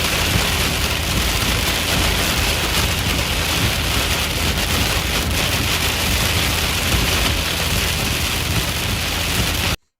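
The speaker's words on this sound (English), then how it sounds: "strong winds and heavy rain coming down here in just to the east of Lafayette" Heavy rain pours and strong wind roars in a storm east of Lafayette, Louisiana, a dense, loud, constant wash that cuts off abruptly at the end.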